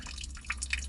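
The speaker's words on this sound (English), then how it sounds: "Here we go, water leak." Water drips from a leaking copper water line under a house floor, a few soft, close drops falling at irregular intervals over a low steady background hum.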